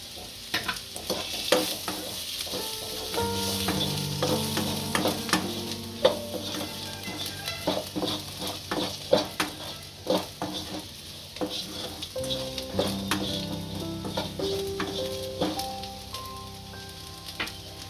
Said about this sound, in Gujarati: આપણા ગુંદા શેકાઈ ગયા છે તેલમાં। હવે એમાં હળદર નાખીશું। ધાણા જીરું નાખીશું।